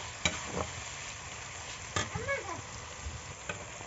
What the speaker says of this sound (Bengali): আলুগুলো দিয়ে একটু নাড়াচাড়া করব ভালো করে, মশলাটার সঙ্গে যেন মেখে যায় আলুটা। হালকা করে একটু কষে নেব